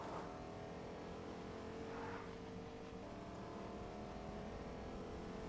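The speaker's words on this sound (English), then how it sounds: "I think I hear another car, maybe." A steady car engine drone in the video game Fortnite, with faint revving swells, continuous and moderately distant, with no voices.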